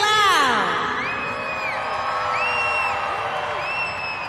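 A Monster Jam arena crowd at the Delta Center in Salt Lake City roars, whoops and screams loudly and steadily, with an announcer's amplified voice echoing over the cheering.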